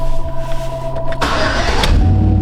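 A Chevy car engine cranks and catches with a sudden burst, then settles into a running rumble, close by and fairly loud.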